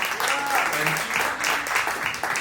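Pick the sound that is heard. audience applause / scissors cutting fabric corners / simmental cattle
audience applause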